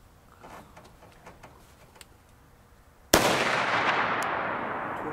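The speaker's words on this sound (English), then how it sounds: "These are the first shots through this gun." A single loud rifle shot cracks out about three seconds in, a .308 Winchester firing Hornady Superformance 150-grain SST ammunition, its sharp report followed by a long, slowly fading echo after quiet outdoor ambience.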